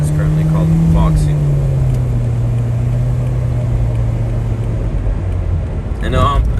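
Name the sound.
Foxy minibus van driving through Yerevan streets at night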